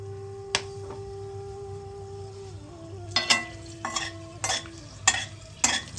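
Bay leaves, dried red chillies and whole garam masala crackle and sizzle in hot mustard oil, with a sharp clink or stir sound every second or so over a steady frying hiss; no talking.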